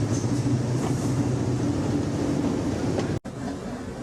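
Locomotive number 0228 hauls a train of empty vans out of a port in Madagascar, a steady, loud, continuous rail rumble with a brief dropout near the end.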